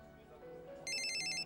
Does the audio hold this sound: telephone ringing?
yes